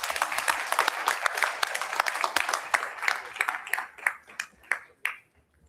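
A crowd at a school board of education meeting applauds a high school's state champion wrestling team, starting as a full round of clapping and thinning out into a few scattered, separate claps before falling silent.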